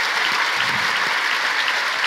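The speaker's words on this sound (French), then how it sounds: "Donc, vous pouvez vous applaudir." A conference audience at a plenary session applauds, a dense, even wash of clapping from many hands that stays steady throughout.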